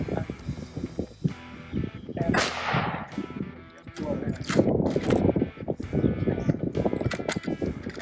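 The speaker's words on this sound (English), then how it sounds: "Now you keep cycling the bolt like it's a 22" A rifle bolt cycled at an outdoor shooting range, producing sharp metallic clacks and ratcheting clicks, with loud gunshot-like bursts and people talking between the mechanical sounds.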